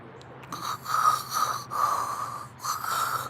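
A person imitates snoring with the voice, producing several rasping snorts in a loose rhythm, close and fairly loud, with short pauses between them.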